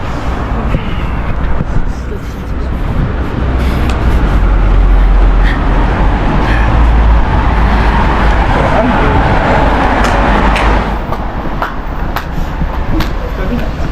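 A car rolls past on a city road in Auckland, a loud broadband rush rising and fading amid steady traffic noise while people talk nearby.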